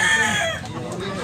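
A rooster crows among clucking chickens at a busy poultry market in Tabunok, Cebu, close and fairly loud over steady crowd bustle.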